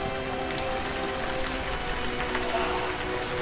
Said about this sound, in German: Und es regnet